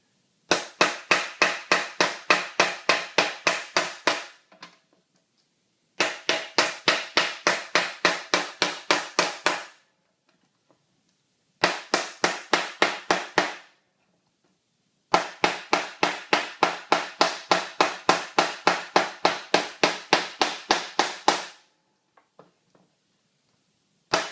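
Hammer striking a steel handpan shell being sunk, rapid even bursts of sharp metallic blows, loud and close, arriving in long runs separated by short pauses, with no voices.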